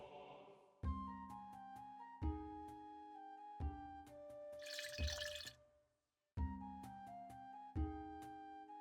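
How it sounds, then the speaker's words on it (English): A jug of water poured into a bucket in the video game RuneScape, a brief splash of pouring water amid repeating plucked music notes and drips. "Then we can put the third of a jug of water into the bucket."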